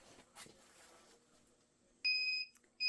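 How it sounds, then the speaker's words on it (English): After a quiet stretch with faint rustling, a sublimation heat press nearing the end of its cycle gives two loud, sharp electronic beeps close by, one long and one starting right at the end. "You'll notice at 3 seconds it starts to beep."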